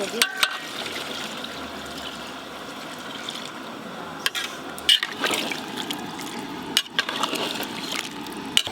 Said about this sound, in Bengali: এবার জল দিয়ে দেবো আজকে বালতি সমেত জল দেবো